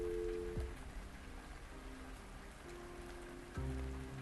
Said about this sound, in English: I hate the rain more than anything.